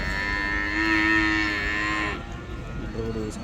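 A buffalo at a cattle market gives a long, loud, drawn-out moo, followed by a shorter, lower call amid background market noise.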